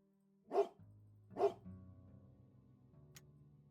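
Two sharp dog barks, evenly spaced and close, come from the video game Stillwater, followed by a low lingering tonal drone and a faint click.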